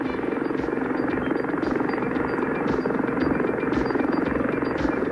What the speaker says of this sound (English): enables the big copter to be winched down safely, even with the ship pitching in 13-foot seas